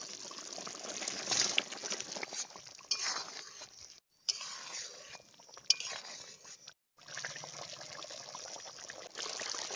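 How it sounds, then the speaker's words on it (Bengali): Fried eggs go into a pan of egg chilli sauce, with wet trickling and bubbling, light clinks of a utensil against the pan, and brief pauses of near silence between bursts. "এবার ভেজে রাখা ডিমগুলো দিয়ে দিচ্ছি।"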